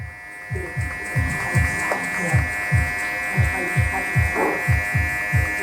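Electric hair clippers run with the guard off while cutting a disconnected fade on a men's wavy hairstyle, giving a steady close buzz with rhythmic low pulses as the blade passes repeatedly over the head.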